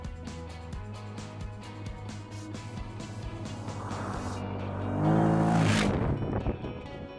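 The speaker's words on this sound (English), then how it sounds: "Now we are cruising on quite a rough field" A TGB Landmax 1000 UTV's engine drones steadily, rising in pitch and revving harder near the end as it bounces along over a rough field.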